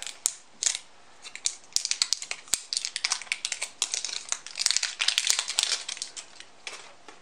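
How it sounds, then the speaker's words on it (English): A toy package's plastic tear strip being torn open, giving a close, crisp run of crinkling and ripping bursts with sharp clicks, steady throughout with no talking. "There's the old tear strip."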